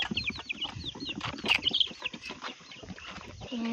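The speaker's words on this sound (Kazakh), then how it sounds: "Міне тауықтар. Міне қораздар, патух." Backyard hens and roosters make a busy run of clucks and squawks with some wing flapping, fairly close and continuous, with no voices.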